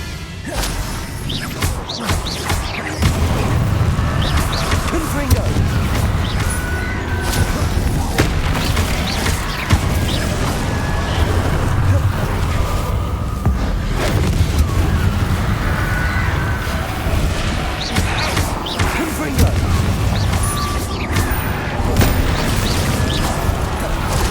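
Confringo blasting spells exploding in Hogwarts Legacy combat, loud repeated booms and crashes with whooshing casts in quick succession over a continuous rumbling game soundtrack.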